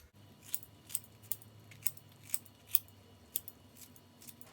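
Kimchi being cut for a kimchi pie, heard as a steady series of about ten crisp, evenly spaced chops or snips, close and fairly quiet with no talking.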